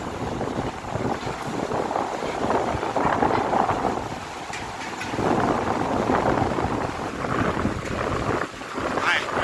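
Strong gusty wind buffets the microphone on a suspension bridge along the Himalayan trek from Phakding to Namche in Nepal, a steady loud roar with surges throughout.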